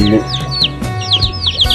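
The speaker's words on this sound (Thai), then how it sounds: "แม่ลูกอ่อนหลุดจากเล้ามาหากินในสวนผักของคุณนายแคท" A mother hen with her chicks forages in a vegetable garden, clucking low and steadily while the chicks chirp in high, rapid peeps over and around her, close and fairly loud, with no speech.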